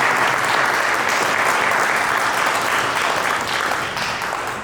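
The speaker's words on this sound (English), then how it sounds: "Well, can we have a round of applause, please?" Loud, dense applause from a conference audience at a blockchain in healthcare session, a steady wash of many hands clapping close by throughout, fading slightly at the end.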